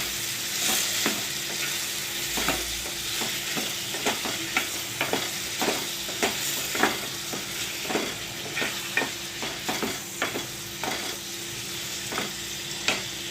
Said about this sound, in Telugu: దీంట్లోనే ఇప్పుడు 1 టేబుల్ స్పూన్ పసుపు వేస్తున్నాను. ఇది కూడా బాగా కలుపుకోవాలి.